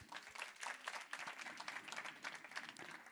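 A comedy open-mic audience in Lambersart breaks into a quiet but dense round of applause, the clapping holding at an even level throughout.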